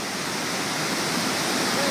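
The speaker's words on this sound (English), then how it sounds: "Look at the wonderful waterfall." A waterfall on the way to the Smoky Mountains, near lakes, gives a steady, dense broadband rush of falling water that holds constant and fairly loud throughout, with no other sounds standing out.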